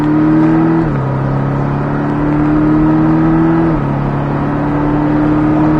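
A Porsche Cayman 718 S accelerating on a track, its engine holding a loud, steady drone heard from inside the car, with the pitch rising and then dropping at two gear changes.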